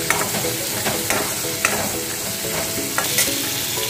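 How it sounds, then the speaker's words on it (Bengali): Bitter gourd slices frying in oil in a pan for a Bengali vegetable curry, a steady crackling sizzle with recurring scrape-and-stir clatters, close and fairly loud, no voices. "উচ্ছেটা ভিতরে ভাজা হয়ে যায়।"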